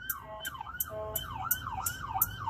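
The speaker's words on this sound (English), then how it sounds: "ambulance" An ambulance siren wails in a rising and falling yelp, loud and close, with a quick repeating rhythm over road rumble, no voices.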